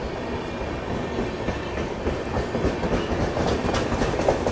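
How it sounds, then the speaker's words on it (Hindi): The Chennai Mail passenger train departs along railway tracks, a steady rumbling roll with faint clickety-clack building slightly, heard close and continuous without talk. "चेन्नई मेल का डिपार्चर, इसी के साथ श्री जगन्नाथ एक्सप्रेस भी बालेश्वर के आउटर में पहुंच चुकी है"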